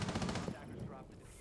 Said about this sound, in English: Shots finally ringing out.